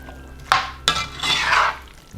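A spoon scrapes and clinks against a pan while leeks and cannellini beans are stirred into a dip mixture, two sharp knocks followed by a dense scraping swirl, close and loud.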